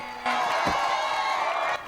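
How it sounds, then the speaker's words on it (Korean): Crowd cheering and whooping at a small-time wrestling match in a village hall, a steady loud roar of many voices that swells in and holds for over a second before dropping away. "그래도 인기와 환호는 만만치 않네요."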